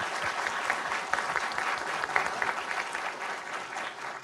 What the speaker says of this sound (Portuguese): eu queria dar salva de palmas para os nossos novos organizadores que estão começando aqui